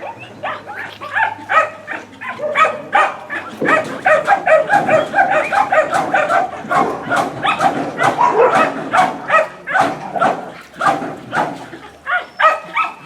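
Several dogs at a kennel bark and yip in rapid, overlapping bursts, loud and close, with whimpers mixed in and a voice speaking faintly underneath.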